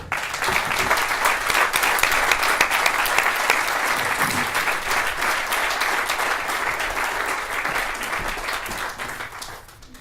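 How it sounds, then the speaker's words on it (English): A crowd at a ribbon cutting for a new veterans home applauds veterans, a dense, sustained wash of clapping that stays loud and steady before tapering off at the end. "please join me in a round of applause for our veterans and for those who continue to serve us in our military"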